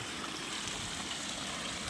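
Irrigation water rushes steadily through a breach in a field bund beside a banana plot, a continuous close gushing flow with no pauses and no voices.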